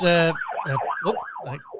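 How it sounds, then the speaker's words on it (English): An ambulance or police car siren passes, its wailing tone sweeping up and down in repeated cycles, fairly loud and clear, following a brief steady horn-like tone at the start. "ambulance or copper going past?"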